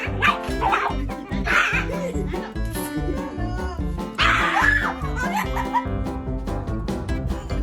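A dog barks repeatedly in loud, close bursts, mixed with yips and whimpers, with human laughter and voices underneath in a home setting.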